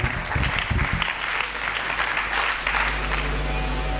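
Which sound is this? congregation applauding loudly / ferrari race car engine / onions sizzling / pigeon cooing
congregation applauding loudly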